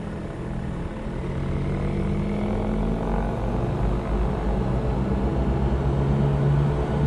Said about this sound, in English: So I'm going to increase to 5000 RPM.